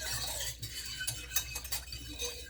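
A whisk stirs gravy made from pork roast drippings inside a slow cooker, giving faint, quick scraping and metallic clinking over a low steady hum.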